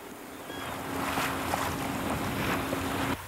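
Sailboat reaching back toward San Diego harbor under a northwest wind, with steady rushing wind and water wash against the hull and a faint tonal hum, continuous and close.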